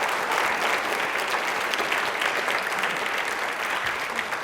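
Studio audience applause at a quiz show, a dense, continuous wash of many hands clapping, loud and steady, with no talk.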